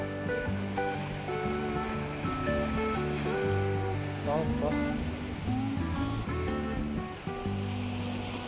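Indian Ocean waves crash and wash against the cliffs below a Mauritius viewpoint in a steady, broad roar, heard from a distance. Music and talk run over it throughout.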